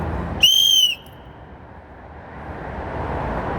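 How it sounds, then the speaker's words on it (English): A single sharp whistle blast, shrill and steady for about half a second, then cut off, leaving a low ambient hum that slowly swells. "He blew a whistle again."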